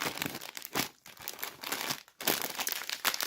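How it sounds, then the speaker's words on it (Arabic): A crinkly plastic snack bag of Lulu cheese chips being torn open, loud close crackling and crumpling with a brief pause midway, then more rustling. "نفتح بقى رابع كيس"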